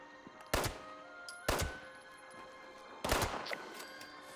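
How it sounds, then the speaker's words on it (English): Gunfire in Fallout 76: three sharp, distant-sounding shots, the last a slightly longer crack, spaced irregularly over a quiet humming backdrop with no talking. "Who is he shooting at?"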